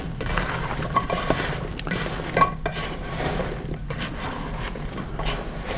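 Fried struffoli dough balls being gently stirred in a pie pan, soft scraping and clinking of a utensil against metal with light sticky shuffling, close and fairly quiet.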